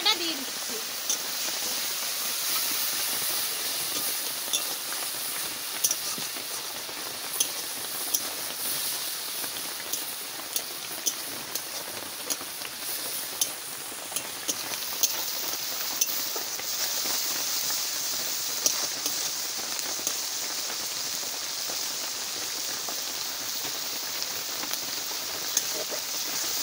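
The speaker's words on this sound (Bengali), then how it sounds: "মশলা ভালো করে কষাই নিচ্ছি।" Ground spice paste frying in oil for a spicy prawn masala, giving a steady, dense hiss and crackle like rain, with faint occasional clicks and some talk.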